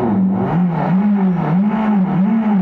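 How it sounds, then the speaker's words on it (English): A Revolt RV400 electric motorcycle's motor gives a steady whine with a wavering mid-pitched tone, continuous and fairly loud, rising and falling slightly like a motorcycle idling and revving. "Most importantly, the sound of RV400 is truly amazing to hear."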